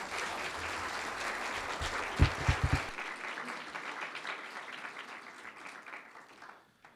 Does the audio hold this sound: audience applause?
yes